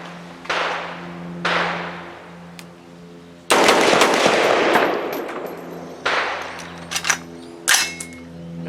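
Bear Creek Arsenal Bear Essential 7.62x39 AR rifle firing outdoors, a sharp single shot, another, then a sustained loud burst of shots followed by a few more spaced reports and clicks, close and loud.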